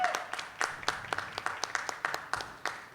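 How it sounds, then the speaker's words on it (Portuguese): Scattered clapping from a small audience at a panel talk, uneven claps spaced out rather than a dense roar, fairly quiet and brief. "Uma salva de palmas para ele também"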